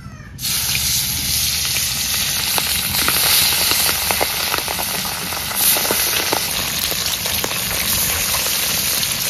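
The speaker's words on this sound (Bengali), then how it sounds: "কড়াই বসাই দিলাম, তেল গরম হয়ে গেছে, এবার মাছ ছেড়ে দেবো।" Pabda fish go into hot mustard oil in a kadai, setting off a loud, continuous close sizzle with crackling spatter that holds steady to the end.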